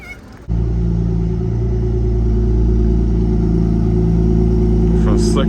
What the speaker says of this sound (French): On fait un sacré bruit la Turbo S.